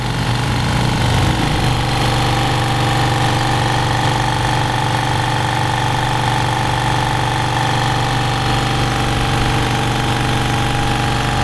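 A SnowTiger S2 air compressor from BBboyAir hums loudly and steadily with a constant low drone and mechanical rattle, running without pause throughout.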